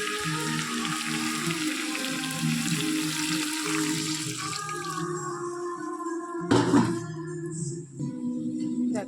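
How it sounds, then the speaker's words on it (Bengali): A little water poured into chicken curry cooking in a pan, a watery hiss and splash over steady frying, with a brief louder clatter near the end, close by. "দেখো আর অল্প জল দিচ্ছি"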